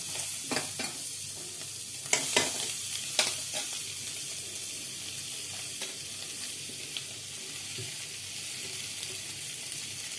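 Chopped onion, garlic, ginger paste, capsicum and green chilli fry in hot oil for chilli chicken, a continuous close sizzle with intermittent scraping and clanking of a spatula stirring through the pan.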